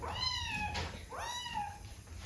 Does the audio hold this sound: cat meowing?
yes